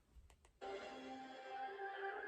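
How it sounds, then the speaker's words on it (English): A couple of soft thuds, then a horse lets out a loud, drawn-out whinny that carries on steadily to the end, in a Harry Potter and the Goblet of Fire film trailer. "Oh, the horses."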